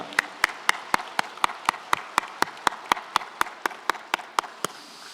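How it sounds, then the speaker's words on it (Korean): Church congregation at a New Year revival service claps in strict unison, an evenly spaced run of crisp single claps, moderately loud and alone, offered as thanks to God. "하나님께 우리 한번 감사의 박수 올려드릴까요?"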